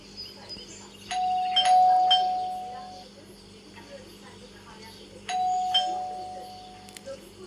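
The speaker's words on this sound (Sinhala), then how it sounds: "දාලා බෙල් එක ගහමු මිස් එයිවිනේ." A two-tone electronic doorbell chime rings twice in the video game Scary Teacher 3D, each ding-dong clear and fairly near, separated by a few seconds over low ambient game background.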